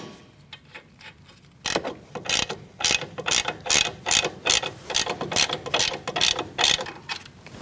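A ratchet tightens the nut on a strut end link of a 2016–2019 Chevrolet Cruze: rapid clicking pawl strokes in short bursts, close and fairly loud, after a quieter start.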